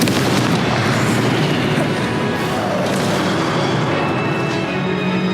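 Confringo explosive spells bursting in Hogwarts Legacy, a loud, steady crackling wash of booming blasts and fiery noise throughout, with no clear gaps between impacts.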